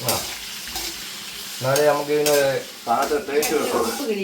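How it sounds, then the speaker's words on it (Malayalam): Ingredients for kaalan, a Kerala curry, are stirred and sautéed in a pan, giving a steady scraping stir over soft sizzling. A tonal, voice-like hum rises partway through and continues alongside the cooking. "ഇളക്കി ഓക്കെ ഒന്ന് വഴന്ന് വരണം അല്ലേ"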